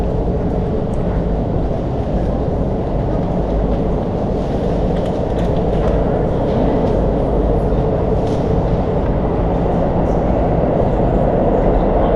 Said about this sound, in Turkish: Metro geliyor.